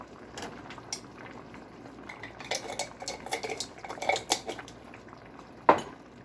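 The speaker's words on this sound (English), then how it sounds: "Give that one more stir" A spoon scrapes and clinks around a pot of chili brine with sriracha and chili flakes, with liquid sloshing softly, irregular metallic taps building in the middle and one sharp clank near the end.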